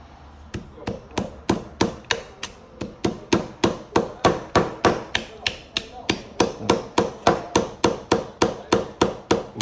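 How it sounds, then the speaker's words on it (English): A hammer drives a nail into wood while building a bird feeder, with about thirty sharp, evenly spaced strikes in a quick, steady rhythm, loud and close with no talking. "There's a nail. Here's a hammer."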